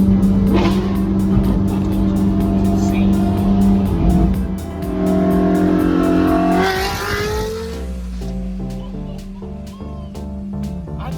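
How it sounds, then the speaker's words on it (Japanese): A powerful Shelby Mustang engine with a Hurst transmission and modified muffler rumbles and revs nearby, its deep exhaust note rising and falling, with people talking over it. "車の音が変わったよ。 前のマフラーがちょっと違う。"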